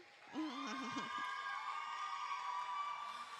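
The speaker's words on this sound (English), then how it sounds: "Let's give him a round of applause again." Applause and cheering from a crowd at a school lunchtime concert, a steady, fairly distant wash of clapping, with a brief voice near the start.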